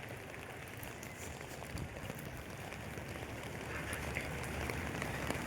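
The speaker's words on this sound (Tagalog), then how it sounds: "Ayan, umuulan eh." Rain falls in a dense, even hiss of drops hitting surfaces, faint and distant at first and growing a little stronger, with no clear speech.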